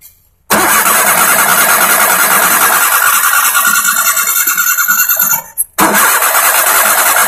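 A Maruti Suzuki Alto with a weak spark fault cranks loudly and close without catching, a long continuous grinding whir that cuts off briefly and then resumes.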